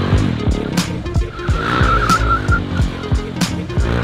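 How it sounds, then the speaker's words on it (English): A motorcycle rear tire skids and squeals through a low-side drift as the bike slides on the ground, with revving engine and repeated rising and falling throttle bursts close by. "You do that by adding more throttle to lose the grip on the back tire and you can lean and slide"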